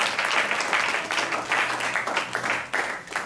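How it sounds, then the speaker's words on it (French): Audience applause for the actor Pierre during a theatre interview event, a moderate bed of clapping that swells and dips slightly, heard fairly close. "On peut l'applaudir aussi"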